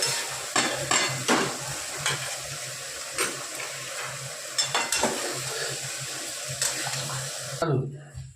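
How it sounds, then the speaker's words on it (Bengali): Spice-cooked chicken stirred in a pan for chicken chatpata, with steady frying sizzle and repeated spoon scrapes and clatter against the pan, close and fairly loud, ending abruptly near the close. "সেইটা আমি দিয়ে দেবো, দিয়ে এর সাথে নাড়াচাড়া করব।"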